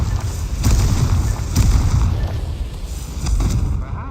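Repeated heavy booming blasts from a Confringo fire spell in Hogwarts Legacy, loud and close, several thudding explosions spaced a second or so apart over continuous rumbling game noise.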